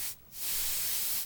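A Copic marker airbrush sprays onto paper in short hissing bursts: a brief puff, a pause, then a steady close hiss lasting nearly a second before cutting off.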